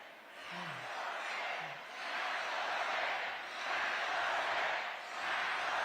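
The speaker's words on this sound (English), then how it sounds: "Oh, this crowd is fired up." An excited political rally crowd cheers and roars in waves, a loud, broad wash of many voices that swells and falls over several seconds, with a few faint voices under it.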